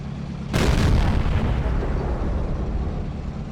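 A tank cannon fires an armor-piercing round at an E-100 hull in a video game, one loud deep boom that breaks suddenly and then rumbles on as a long, heavy decaying roar.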